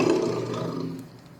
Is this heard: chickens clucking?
no